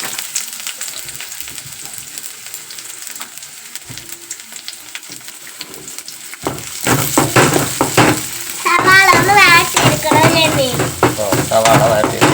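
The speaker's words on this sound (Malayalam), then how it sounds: "അരിഞ്ഞ സവാള ഇട്ട് കൊടുത്തിട്ടുണ്ട്" Chopped onion fries in coconut oil in a pan, giving a steady, moderately loud sizzle throughout. Voices join partway through and continue over the frying to the end.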